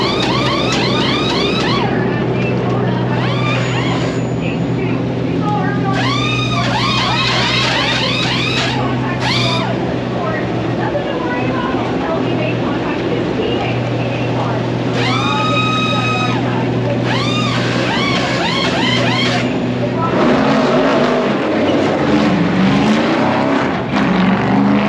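NASCAR race cars circling the track, heard from the pits: loud, continuous engine roar with repeated rising and falling whines as cars sweep past, layered with crowd and pit noise throughout.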